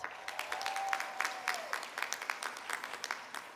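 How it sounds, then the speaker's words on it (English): Applause for alumni at a Bowie State University spring commencement, a crowd clapping steadily with sharp individual claps standing out, thinning gradually toward the end while a faint tone fades early on. "Give our alumni a round of applause."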